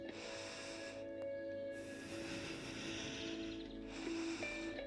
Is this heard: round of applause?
no